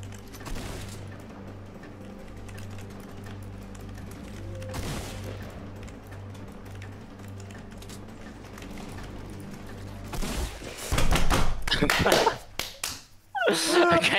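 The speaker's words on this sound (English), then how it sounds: "Was the tac fire rate really that fast?" A tactical shotgun fires in the Fortnite video game as a fast cluster of sharp, loud shots near the end, following quieter game ambience and mechanical clicks.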